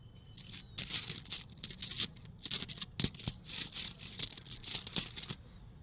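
Five-rupee coins clink and tumble as they are handled and dropped, a run of close, bright metallic taps and jingles in short clusters.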